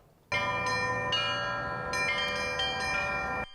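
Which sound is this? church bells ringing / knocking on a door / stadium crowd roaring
church bells ringing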